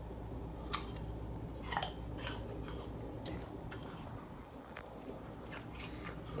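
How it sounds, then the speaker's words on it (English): Crisp Envy apple bitten and chewed, several sharp crunches spaced across a few seconds over a steady background hiss, fairly close. "Got a nice crunch to it once you bite into it."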